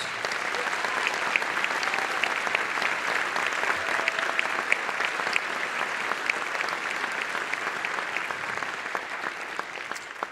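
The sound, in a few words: audience applause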